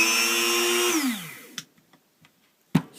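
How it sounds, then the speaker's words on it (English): A Dremel 200 rotary tool whines loudly at high speed, then its pitch slides downward as it winds down to silence, followed by a few faint clicks and one sharp knock. "It is a high and low speed Dremel."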